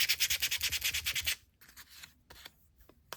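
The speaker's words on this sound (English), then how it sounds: "if you sand this, see, then you really distress it." Rapid back-and-forth sanding strokes rub a new craft supply, about a dozen rhythmic scrapes, close and fairly loud, then give way to a few softer, scattered rubs and light handling sounds.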